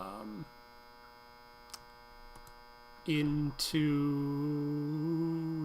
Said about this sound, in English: The loud buzzing noise has started.